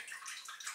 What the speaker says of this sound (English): Just wet the razor in the cold water.